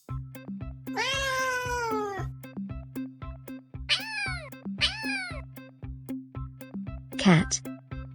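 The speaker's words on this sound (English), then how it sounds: "Cat." A cat gives one long drawn-out meow, then two shorter meows and a final sharp cry, close and clear over a steady rhythmic backing beat.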